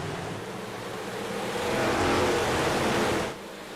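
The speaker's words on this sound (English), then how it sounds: "You can hear him on the throttle just slightly, and you hear the car starting to unload down the back straightaway through the bumps" A race car on slight throttle runs down the bumpy back straightaway at Oswego Speedway, a broad roaring rush that swells louder midway and then drops off, heard without talk.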